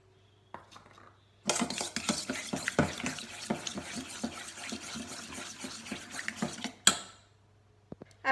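Cake batter being mixed in a bowl, a quick run of rhythmic scraping and clinking utensil strokes that starts suddenly after a quiet moment and ends with a louder knock.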